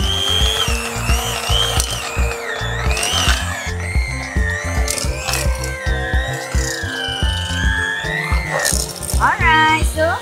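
Electric mixer beating cream cheese until fluffy for a batik indulgence cake, a steady loud whirring rattle running throughout, with a voice talking over it.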